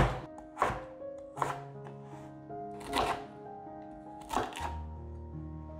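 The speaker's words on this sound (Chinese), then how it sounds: "接下来切块" A knife chops taro into chunks on a cutting board, giving four sharp, hollow thunks spaced about a second apart, close and clear against a quiet kitchen.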